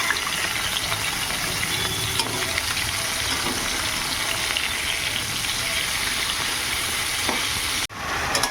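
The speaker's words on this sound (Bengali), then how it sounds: "এই যে বন্ধুরা এদিকে মাংস চাপিয়ে দিয়েছি, একসাথে সব চাপিয়ে দিয়েছি, পেঁয়াজ দিয়ে রসুন দিয়ে কুচিয়ে একসাথে চাপিয়ে দিয়েছি।" Meat sizzles and fries in a pan with chopped onion and garlic, a steady dense crackle that carries on evenly before cutting off abruptly near the end.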